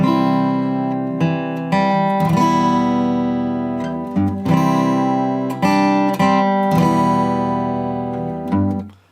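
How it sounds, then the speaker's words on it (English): A guitar in standard tuning plays the opening line of a song from inFAMOUS 2, a steady series of strummed and picked chords with sharp attacks, ringing clearly and alone for several seconds. "My guitar's in standard tuning and the first line sounds like this."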